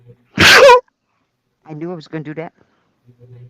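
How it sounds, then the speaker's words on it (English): One sharp, loud sneeze bursts out close to the microphone, followed after a pause by someone speaking in a casual indoor setting. "I'm going to sneeze."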